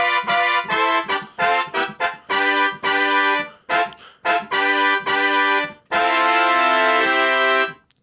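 A MainStage gig brass patch played on its own, a harmonic-rich brass synth voice sounding in short stabs and held chords with gaps between phrases, ending on a long sustained chord; no talking.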